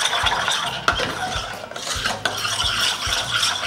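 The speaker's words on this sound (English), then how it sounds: "Then we're gonna be mixing everything together." Calamansi bar filling being mixed in a pot, quick close scraping and tapping of a utensil against the pot, irregular stirring strokes with a faint wet swish, no voices.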